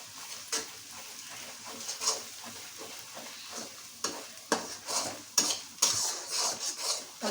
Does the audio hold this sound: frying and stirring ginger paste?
yes